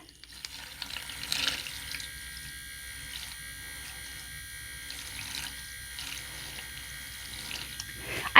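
An electric makeup brush cleaner spins a brush dunked in water, giving a steady whirring, swishing wash of splashing at close range with a few louder surges.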